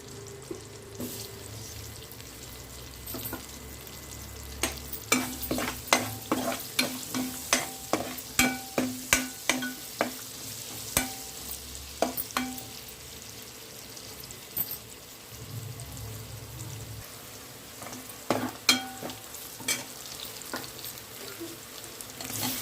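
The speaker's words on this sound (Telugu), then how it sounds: "అదే ప్యాన్ మీద ఆయిల్ పోసుకొని ఉల్లిపాయలు ఇంకా పచ్చిమిరపకాయలు వేసి బాగా వేయించుకుందాం" Onions and green chillies fry in oil in a pan with a steady sizzle, punctuated by a run of sharp stirring clacks of a utensil against the pan; no speech.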